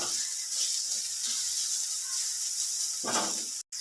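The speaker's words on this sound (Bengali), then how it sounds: "পেঁপেটা নেড়ে চেড়ে ভালো করে ভেজে নিতে হবে।" Papaya pieces being stirred and fried in a pan for a sweet chutney make a continuous hissing sizzle with a brief louder surge near the end, followed by a sudden short dropout.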